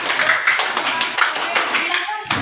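Schoolchildren in a classroom reading activity clap together, a dense, loud patter of many hands that runs for a couple of seconds with some voices mixed in.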